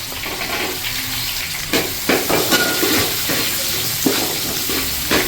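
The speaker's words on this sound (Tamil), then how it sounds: "சின்ன வெங்காயம் நல்லா வதங்கட்டும்." Small shallot onions sizzle steadily in hot oil in a pan while a spoon stirs them, with scraping knocks and clinks breaking through the continuous hissing fry.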